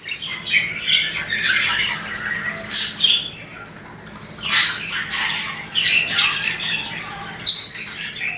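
Harsh, scratchy budgerigar squawks and chirps repeat in irregular bursts, fairly close, with a faint low hum underneath.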